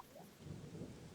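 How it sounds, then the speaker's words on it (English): Rain with a rumble of thunder, used as a sound effect in a Barney read-along story about a tent, rolls steadily through a short stretch with a low, continuous thunder swell and a hiss of rainfall, no voices. "Barney and Baby Bop listened to the rain make pit-pat, split-splat sounds on the tent"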